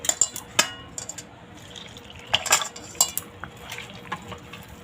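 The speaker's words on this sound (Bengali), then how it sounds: "ব্যাটারটা গুলে নেব" Palm batter mixed with milk in a bowl for Taler Patisapta, with soft wet stirring and the scattered clinks of a spoon against the bowl, quiet and close.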